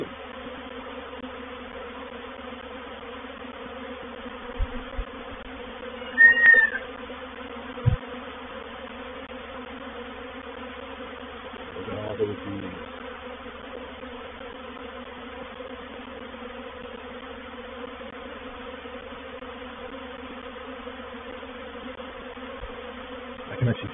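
A honey bee swarm buzzes steadily during capture, a continuous, even hum that holds for the whole stretch with a few brief knocks and handling bumps over it and no talking.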